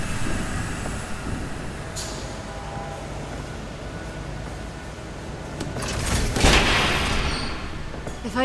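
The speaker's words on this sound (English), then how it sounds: "There's a train coming." A train rolls past in the Batman Telltale video game, a low continuous rumble and rattle that swells louder near the end with a sharp metallic burst, no voices.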